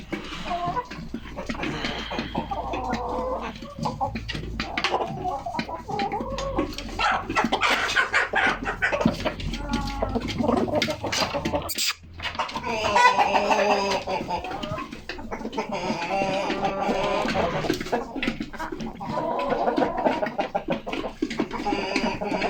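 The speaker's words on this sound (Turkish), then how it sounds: "Evet yedek Avusturya horozumuz." Black-and-white Leghorn chickens cluck and chatter continuously nearby, with an Austrian rooster's calls rising among the flock, busy and fairly loud throughout.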